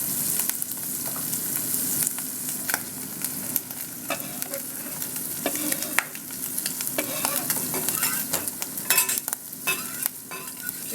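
Mushrooms sizzle and fry in a hot pan while a utensil stirs them, a steady crackle broken by frequent scraping clicks, close and fairly loud with no one talking.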